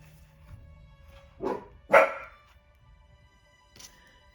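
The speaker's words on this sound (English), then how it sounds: "my dog decided to go and bark at the neighbours" A dog barking at the neighbours, two sharp close barks in quick succession followed by a fainter third yip a couple of seconds later, with no talk.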